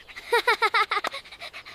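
A small dog panting rapidly, quick rhythmic breaths close to the microphone, with a faint whimpery edge.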